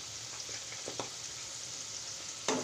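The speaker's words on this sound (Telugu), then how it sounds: "ఇప్పుడు కరివేపాకు పచ్చిమిర్చి వేసి వేయించుకున్నాం కదండి" Curry leaves and green chillies fry steadily in hot oil, a dense continuous sizzle with a few small pops and one louder stir or crackle near the end, with no voices.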